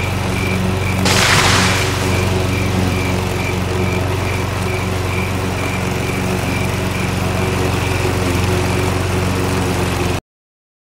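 A lawn mower cuts grass with a loud, steady engine drone close by. A short, rougher burst comes early on, then the running sound continues unbroken until it cuts off abruptly.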